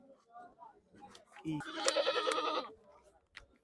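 A goat lets out a loud, wavering bleat lasting about a second at a livestock market, with quiet murmuring voices before and after.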